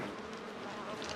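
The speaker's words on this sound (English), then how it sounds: "having bees swarm around her" A swarm of bees gives off a steady, dense buzzing drone that holds at an even loudness throughout, fairly faint and without talk.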